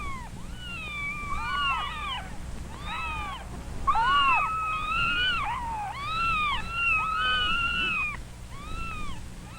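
Newborn kittens, eyes still closed, cry for their mother with a busy overlapping chorus of thin, high, wavering mews. Several voices call at once in rapid bursts over a faint steady background hum.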